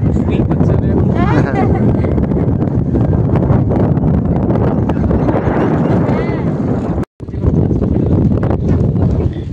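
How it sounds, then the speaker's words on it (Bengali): Strong wind sweeps over a river at Jharkhali in the Sundarbans, a loud, continuous roar buffeting the microphone close up, broken by one brief dropout near the end. "চিলগুলো ওপারে যেতে চাইছি কিন্তু যেতে পারছে না, এত হাওয়া হচ্ছে।"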